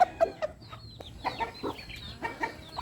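A rooster clucks in short, repeated bursts close by, with a few sharper calls scattered through the noisy background.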